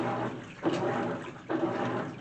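A GE top-load washing machine agitates water on a normal cycle, a continuous churning slosh whose surges come at regular intervals about a second apart, steady and close, with no voices.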